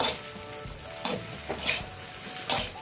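Shrimp fried rice being stir-fried in a pan, a steady loud sizzle broken by several sharp scraping and tossing bursts as the rice is moved around, with no talking.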